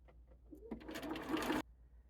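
A sewing machine stitches quilt block pieces made of 2 1/2 inch squares in one short, faint burst of under a second, with quiet room tone before and after.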